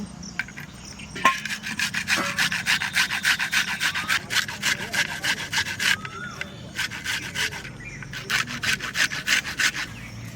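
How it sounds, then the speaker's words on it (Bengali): An onion is grated by hand on a grater in a home kitchen while cooking soya chunk kofta curry, giving steady rhythmic rasping strokes, close and continuous, with brief pauses between bursts. "পেঁয়াজটা এবার ঘষে নেব।"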